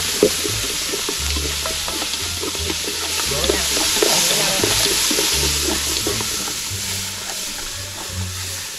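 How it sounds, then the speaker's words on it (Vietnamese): Chicken wings frying in fish sauce in a hot pan, with steady loud sizzling and crackling and repeated scraping strokes of a utensil stirring them, close up and without talk. "Nó lấy món cánh gà chiên mắm"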